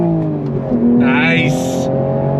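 A 2026 Toyota Supra Mk5 accelerates on throttle, its engine note rising loud and close from the cabin as the revs climb through a gear.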